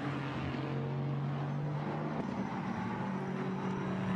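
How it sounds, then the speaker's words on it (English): Chevrolet Camaro GT4 race cars growl steadily at a distance down a hill at Spa, a continuous rumbling drone with a shift in pitch partway through. "They do make a great noise, the Camaros, as they growl their way down the hill."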